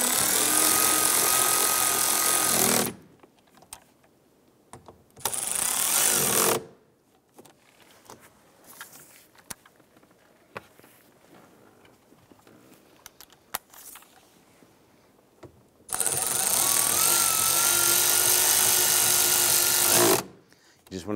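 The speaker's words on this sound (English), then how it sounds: "we'll go ahead and snug down our hardware" Power driver snugging down the mounting hardware of a passenger side mirror on a 2010-2016 Cadillac SRX, two loud whirring bursts at the start and two more later, separated by quiet handling clicks.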